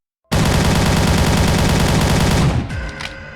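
ASH-12.7 battle rifle firing full-auto in the Project Lazarus video game, a loud rapid continuous burst of about two seconds that cuts off abruptly, followed by faint mechanical clicks.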